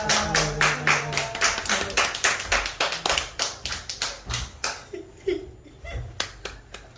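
A church congregation applauds steadily, many hands clapping in a dense, continuous patter that thins slightly toward the end.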